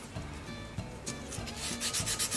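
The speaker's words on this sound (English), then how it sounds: "I'm just sanding them" Magnets being rubbed on sandpaper while fitting an antique horizontal/vertical mount Briggs & Stratton engine, a rhythmic back-and-forth scraping of about eight close strokes that grows louder toward the end, with no talking.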